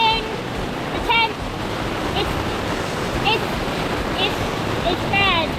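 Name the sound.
heavy rain pouring on tent on river boat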